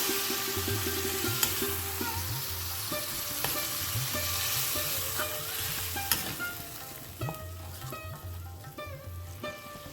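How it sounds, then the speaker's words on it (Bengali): Minced chicken and peas frying in masala in a pan with a splash of water, a constant crackling sizzle throughout, with scattered sharp clicks and scrapes of a stirring spoon, close and without talk. "চিকেন কিমাটা দিয়ে খুব ভালো করে কষিয়ে নিতে হবে"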